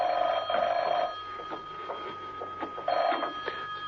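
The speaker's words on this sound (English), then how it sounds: "the phone was ringing" An old-style telephone bell rings in an apartment in two short double bursts with a pause between, heard alone over a faint background hum.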